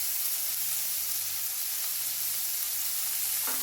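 Onions sautéing in oil with dried red chilli and curry leaves, a close, constant sizzle and hiss holding steady at one level throughout, with no voices.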